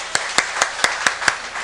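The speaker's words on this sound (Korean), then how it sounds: "박수 드릴까요?" Six separate hand claps ring out at an even pace in a church congregation, crisp and moderately loud with a short echo, and no voices in between.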